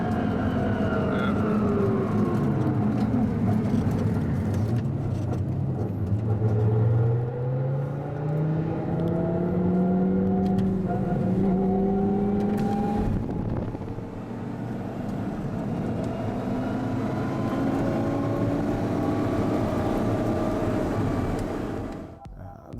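A chip-tuned 530 horsepower Nissan GTR races a BMW S1000 RR motorcycle, engines climbing repeatedly in pitch through gear changes as they accelerate, loud at first and then receding into a distant rumble.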